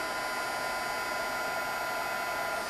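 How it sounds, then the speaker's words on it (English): A Marvy heat tool blows steadily while melting embossing powder on a snowman Christmas card, a loud continuous hair-dryer-like whir and rush of air, close and unbroken. "I'm using the Marvy heat tool."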